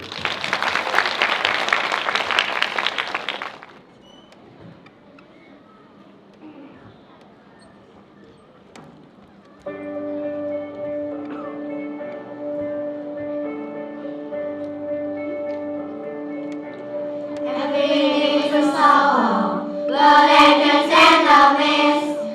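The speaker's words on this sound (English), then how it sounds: "Everybody, clap your hands." An audience at an elementary school English performance event claps loudly for about three seconds, followed by a quiet pause, then sustained music and voices.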